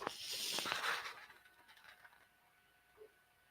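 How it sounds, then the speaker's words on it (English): A home printer's mechanism whirs and clicks faintly in a short burst of ratcheting, gear-like rattles that fade out, followed by a single small tick near the end in a quiet room. "I heard something from my printer."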